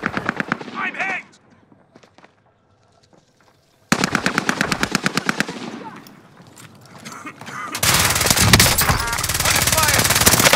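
Machine gun fire in a battle royale video game: rapid, loud bursts of automatic shots start and stop, then a long dense stretch of continuous firing, with brief game voice lines in between.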